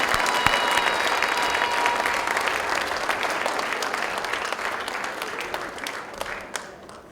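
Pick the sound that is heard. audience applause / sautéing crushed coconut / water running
audience applause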